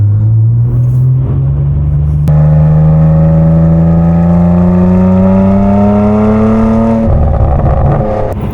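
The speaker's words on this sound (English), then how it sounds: "In V mode, the exhaust pops a lot, like it burbles a lot." A Cadillac CT4-V Blackwing engine drones steadily with a rising pitch, rumbling loudly up close, with crackling exhaust pops and burbles near the start and end.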